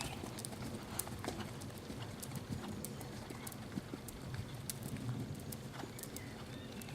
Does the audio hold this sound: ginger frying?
no